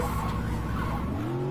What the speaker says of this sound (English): That was the worst drift I've ever seen in my life.